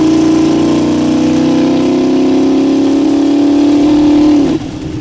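A twin-turbo Dodge Ram 1500 with a 5.2-liter Magnum V8 on GT35 turbos holds a loud, steady high rev close up, then drops off sharply near the end.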